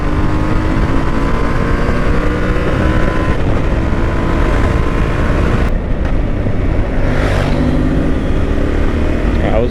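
Motorcycles, a Harley Pan America and a Yamaha Tenere, accelerate on the road, giving a steady loud engine drone under heavy wind rush, with a rising pitch as one bike pulls past.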